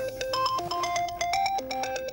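A mobile phone rings with a tuneful electronic ringtone, a repeating pattern of clear bell-like notes, prominent and steady with no talking.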